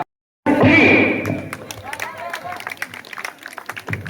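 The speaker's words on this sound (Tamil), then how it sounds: "எல்லாரும் கைதட்டுங்கப்பா கைதட்டுனா குழந்தை உற்சாகமா போக முடியும்." A crowd claps to cheer on children in a sack race at a community sports event, with rising applause mixed with voices and a speaker talking over it.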